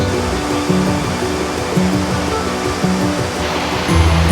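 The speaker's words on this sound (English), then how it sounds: "Okay, so we made it out to the bottom of the falls." A waterfall at the base of Futakuchi Gorge on the Natori River near Sendai, Japan roars as a dense, steady rush of water, loud and close, with no voices.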